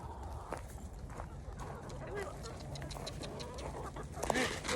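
Hens on a field trip cluck softly amid footsteps and faint background noise, with a brief sharper call near the end; people talk nearby.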